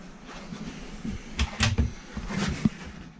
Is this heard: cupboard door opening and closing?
yes